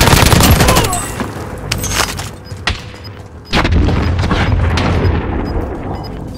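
Gunfire and heavy booms in the video game Call of Duty: Modern Warfare, loud and close, with a dense rattle at the start and a second thudding blast midway over a rumbling battlefield background.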